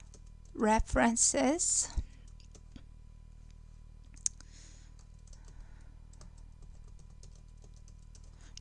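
Scattered computer keyboard taps and mouse clicks while working in AutoCAD, faint and sparse, following a short spoken word at the start, with one crisp click standing out midway.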